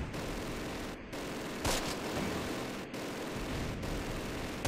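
Gunfire in the Close Combat: The Longest Day war game: a dense, continuous crackle of fusillade with a few sharper bursts, steady and fairly loud across the clip.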